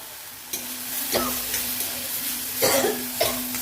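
Snake gourd seeds fry deeply in a pan for chutney, a soft continuous sizzle broken by several scraping stirs of a spoon, close and fairly quiet.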